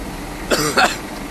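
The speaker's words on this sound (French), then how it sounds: "j'ai toussé, c'est rien" Two short, close coughs in quick succession, sharp and raspy, over a quiet steady background.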